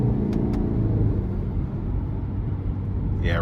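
2023 Subaru Ascent Limited with a 2.4-liter turbo engine and all-wheel drive accelerating hard, a steady deep engine and road rumble heard from inside the cabin, loud and continuous.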